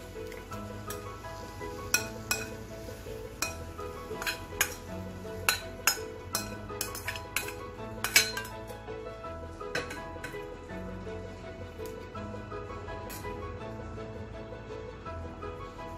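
A spoon clinking against a pan while serving dry boiled potato vegetable curry into a bowl, a series of light metallic taps and scrapes, close and fairly quiet over a low background hum.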